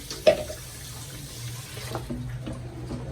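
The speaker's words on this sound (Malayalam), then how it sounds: "ആവശ്യത്തിനുള്ള വെള്ളം ചേർക്കാം" Water poured into a simmering Kerala fish curry with ground coconut paste, a short tap-like splash up front followed by a steady gentle trickle and soft bubbling close by, no talking.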